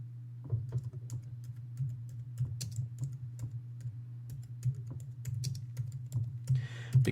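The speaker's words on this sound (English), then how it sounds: "I'm going to take a second to type this in." Someone types on a computer keyboard with quick, irregular clicks over a steady low hum. Short bursts and pauses follow each other, and a rustle comes near the end.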